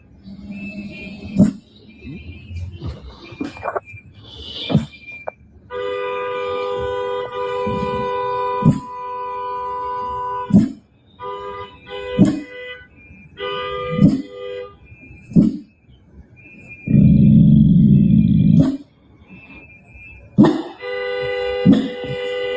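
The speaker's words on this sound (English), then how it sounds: "the reason you're hearing all that honking is because that's what they're doing." Car horns honking at a street protest, repeated short toots and longer sustained blasts from several vehicles, loud and close, mixed with crowd noise and thumps over about twenty seconds.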